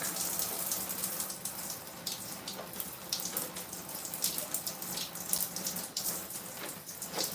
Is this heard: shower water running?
yes